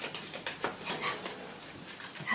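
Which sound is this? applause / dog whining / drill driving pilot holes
dog whining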